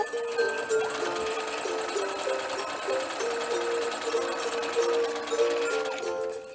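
A sewing machine hems the sleeve edge of an old sweater being made into a scarf, running steadily for several seconds with a fast, even whirring stitch and no pauses.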